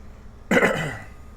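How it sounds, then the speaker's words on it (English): One rough, throaty cough from a man, close and abrupt, fading quickly into quiet. "Must I do my old man cough?"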